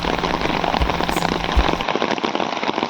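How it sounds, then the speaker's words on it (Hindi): Heavy monsoon rain pouring down on the IIT Guwahati campus, a dense steady hiss of drops hitting surfaces close by, with a couple of louder splats and the downpour continuing without voices. "गाइस बहुत ही तगड़ी बारिश स्टार्ट हो गई है अब"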